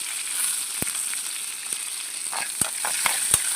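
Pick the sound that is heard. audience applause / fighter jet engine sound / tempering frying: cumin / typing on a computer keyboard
tempering frying: cumin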